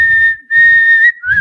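A person whistles the Tennessee state song in clear, close, sustained pure tones, a few notes with short breaths between them and soft background noise.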